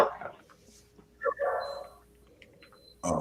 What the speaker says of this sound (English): Who dog going crazy?